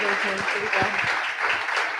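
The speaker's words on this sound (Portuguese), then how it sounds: "Uma salva de palmas para a Ana, então, muito obrigado." Audience applause closing a presentation, a steady wash of clapping that runs the full length at moderate loudness, with voices mixed in underneath.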